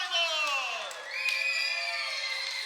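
Crowd noise from a high school volleyball game, a steady wash of cheering and shouting voices with a brief dip before rising again, fairly loud and continuous throughout.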